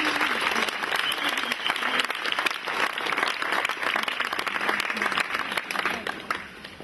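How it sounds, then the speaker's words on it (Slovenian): Audience applause at a Slovenian first-aid competition, a dense, sustained patter of many hands clapping at close range that tapers off near the end, with faint voices underneath. "En aplavz."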